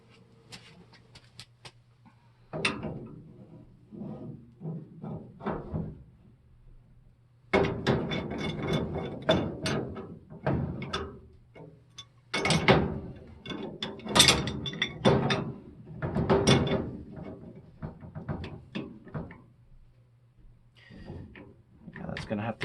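Two crescent wrenches tightening a furnace gas shutoff valve, irregular metallic clicks, scrapes and clanks in bursts, close by, with a person talking intermittently over the work.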